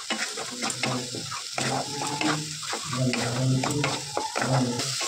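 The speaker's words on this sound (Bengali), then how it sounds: "এর মধ্যে হলুদ, লবণ, লঙ্কার গুঁড়ো, একটু জিরে গুঁড়ো দিয়ে ভালো করে নাড়াচাড়া করে নেবো" Turmeric, salt, chilli and cumin powders stirred in a hot pan, a rhythmic scraping of a spatula over a steady sizzle, the strokes repeating every second or so, no voices.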